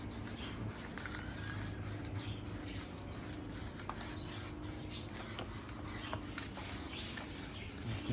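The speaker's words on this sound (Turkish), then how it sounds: "Sprey boya inşallah kalıcı olur." Spray paint hissing steadily onto a rusty fireplace-style stove being repainted in a garden, a continuous broadband spray running close and fairly loud for several seconds with brief pauses.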